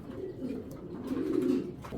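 A pair of grizzle pigeons cooing softly, low rolling coos close by with no talk.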